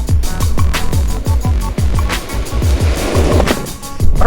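A Juiced dual-motor electric skateboard rolls along a sidewalk, its wheels clacking in a rapid, regular rhythm over the pavement cracks beneath a constant loud rolling rumble.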